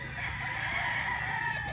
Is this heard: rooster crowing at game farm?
yes